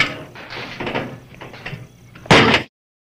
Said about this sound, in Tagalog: Pakibukas lang ako ng pinto